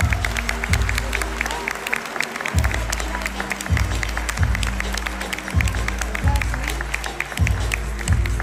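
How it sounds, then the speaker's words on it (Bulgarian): An audience at a children's dance show put on by a private kindergarten claps in a steady, loud, continuous wash of applause, with pulsing low music beats underneath throughout. "Но нека първо да ги поканим с аплодисменти."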